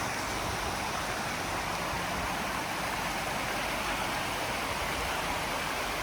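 Continuous rushing water of Lithia Creek in a park, a steady broadband wash close by, unbroken and even in loudness with no voices.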